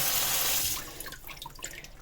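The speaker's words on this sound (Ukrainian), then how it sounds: "просто набираємо ємність з водою" Tap water gushes loudly into a container, a steady close rush that cuts off after under a second, followed by scattered drips and small trickles.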